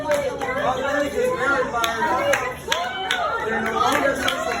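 Crowd noise at a hybrid fundraiser event, a steady mix of overlapping chatter and voices with scattered claps and knocks throughout.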